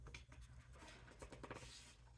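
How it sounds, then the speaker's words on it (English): Soft papery rustles and brushing swishes as a book page is turned, quiet and close, with faint scratchy movement and no talking. "I like hearing the page turn."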